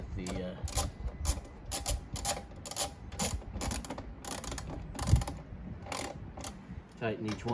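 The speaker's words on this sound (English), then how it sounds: "with the socket wrench. Tighten her down and make sure it's all nice and tight in place" A socket wrench ratchet tightens the top box bolts on an Xmax 300 scooter, giving rapid, close clicking in repeated short bursts with brief pauses between strokes.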